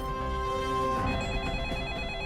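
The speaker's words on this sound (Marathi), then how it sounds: "जरा फोन रिसीव्ह करता का?" Telephone ringing indoors in an office setting, a sustained electronic ring at moderate level that shifts tone partway through, with no one speaking over it.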